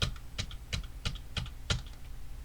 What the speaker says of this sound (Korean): V키를 6번 눌러서 붙여넣기를 6번 하고 총 7개의 타이틀을 만들게요